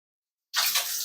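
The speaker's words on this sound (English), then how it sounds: "I'm going to wet my hands again." Tap water runs onto hands being wetted while making sourdough bread, a sudden close splashing hiss that starts after a moment of silence and continues steadily to the end.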